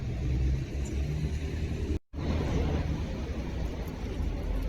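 A red Porsche 911 Turbo S with yellow calipers rumbles steadily on a Zurich street, a loud, continuous engine drone that briefly cuts out midway before resuming.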